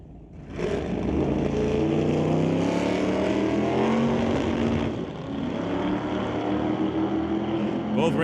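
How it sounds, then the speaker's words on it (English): A Malibu and a Corvette launch and race down a street-legal drag strip at Mission Raceway Park, a loud sustained roar of engines with shifting pitch, close and dominant throughout. "Both racers firing down track."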